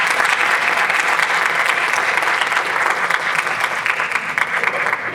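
Loud, continuous applause from an audience after a talk on coral reef sounds, close and full with crisp individual claps sustained throughout.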